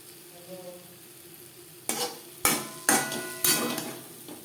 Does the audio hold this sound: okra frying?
yes